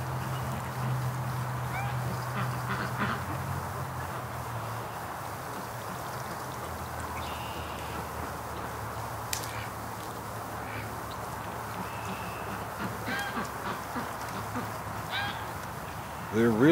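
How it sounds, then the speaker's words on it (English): A slow line of ducks waddling past in a backyard where duck and goose eggs are being hatched, with steady outdoor ambience, scattered faint quacks and honks, and a low hum running through much of it. "It looks like we got a whole train of ducks going down here."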